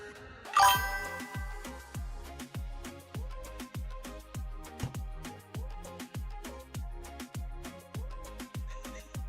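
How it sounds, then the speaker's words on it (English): A Streamlabs stream notification chime rings as a rapid, evenly spaced series of bright metallic dings, repeating without a break for the whole stretch, clear and close. "I'll play around with the notification noises later"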